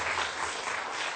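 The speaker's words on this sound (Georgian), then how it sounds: "აპლოდისმენტები" A studio audience at a Georgian comedy game show breaks into dense, steady applause, an even wash of many hands clapping with no voices on top.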